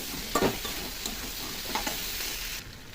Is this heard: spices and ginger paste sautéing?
yes